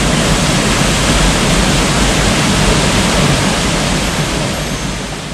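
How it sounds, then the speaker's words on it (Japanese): Hassaku waterfall at a mountain shrine roars as a continuous, loud, broadband rush of falling water, heard close and unbroken with no voices. "八朔の滝"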